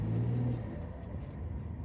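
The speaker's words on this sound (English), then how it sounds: "So what we'll do is we'll turn the car around so we'll be able to see him." A car turning around sends a low, faint engine rumble that swells briefly at the start and then settles into a soft idle drone.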